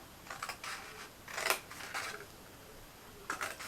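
Scissors cut card stock for a small lip balm box in short, crisp snips, several separate cuts close up and fairly quiet.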